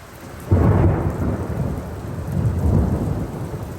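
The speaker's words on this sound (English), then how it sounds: "so the thunder is very loud" Thunder cracks loudly overhead during a rainstorm, breaking in suddenly and then rumbling on heavily while rain keeps pattering underneath.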